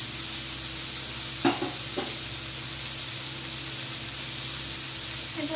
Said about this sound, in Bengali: সবজিগুলোকে একটু নেড়ে চেড়ে নিতে হবে যাতে কাঁচা গন্ধ না থাকে